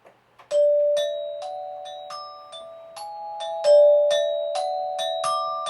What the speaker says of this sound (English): So I started out by using my Horner Glockenspiel, and I recorded that.